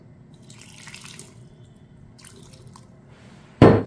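A little water is poured onto ground Indian gooseberry, with faint trickles and drips followed by a short, loud splash near the end.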